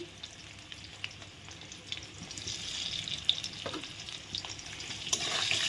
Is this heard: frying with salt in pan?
yes